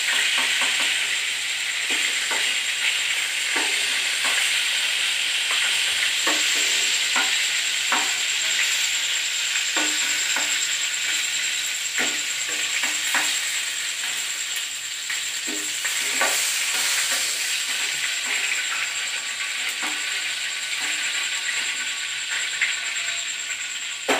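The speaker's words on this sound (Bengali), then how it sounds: "বাকি পটলগুলো এমন করেই ভেজে নিলাম।" Pointed gourd (potol) pieces fry in hot oil with a loud, continuous close sizzle, broken by the scrape and clink of stirring throughout.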